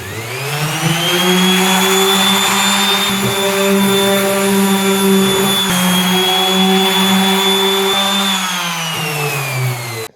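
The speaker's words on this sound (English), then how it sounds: "we're going to use a little DA sander and just take any big scratches out" A small DA sander runs over timber-frame kitchen wood, knocking down big scratches with a loud, steady whirring drone that holds for about ten seconds before cutting off, with no talking.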